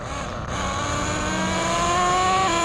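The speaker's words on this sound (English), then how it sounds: "I'm going to do a higher RPM pass." A Kyosho USA-1 nitro RC truck with a 2-speed transmission makes a high-pitched engine whine that climbs steadily in pitch and loudness during a higher-RPM pass.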